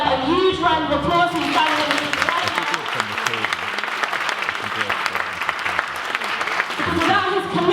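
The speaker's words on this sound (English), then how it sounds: "Can we give the founder of this event a huge round of applause?" An audience at a Hidden Science of Black Hair event bursts into loud, sustained applause for the founder, dense clapping right after a voice speaks and fading as talk resumes at the end.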